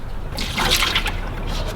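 Shower water runs steadily at a beachside campsite, a close, loud hiss and patter of falling water without a break, swelling slightly in the middle.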